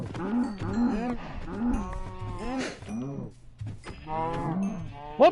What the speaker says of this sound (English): Those were baby cows growing into adults